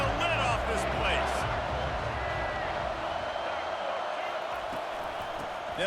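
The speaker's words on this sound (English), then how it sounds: "Third down, and this crowd is tearing the lid off this place." Roaring stadium crowd in a football video game, a steady loud wash of cheering with whoops and claps, heard under commentary throughout.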